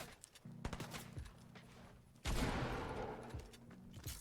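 Sustained spray of gunfire in Fortnite, a rapid rattling burst that swells loud partway through and keeps going, mixed with building and impact noises.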